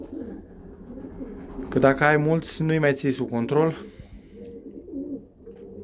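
Racing pigeons coo softly in a loft, faint and steady beneath someone speaking.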